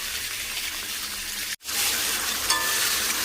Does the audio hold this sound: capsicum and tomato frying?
yes